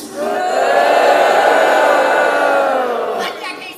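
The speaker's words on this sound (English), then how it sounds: "The crowd boos." Concert crowd at a tribute show booing together, a loud sustained wall of voices swelling quickly and holding steady before tapering off near the end.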